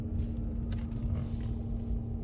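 A low, steady engine rumble hums from inside a Mazda MX-30 R-EV as its range-extender engine restarts, fairly quiet and constant throughout.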